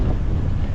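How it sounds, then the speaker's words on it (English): Wind buffets an outdoor microphone on a cool, breezy day, a dense low rumble that fills the whole brief moment with no voices. "since then the wind's picked up"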